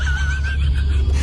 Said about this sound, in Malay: Nama pun kuda.